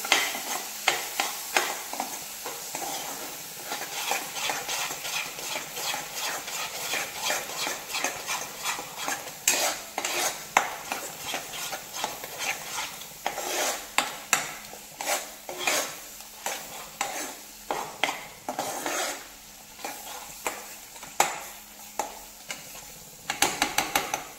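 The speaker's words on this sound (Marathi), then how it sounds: "आता हे सगळं आपल्याला व्यवस्थित मिक्स करून घ्यायचं आहे." Spiced mutton trotter curry is stirred in a pan, a spoon scraping and clinking steadily against the metal over a constant sizzle, close and fairly loud, with no talking.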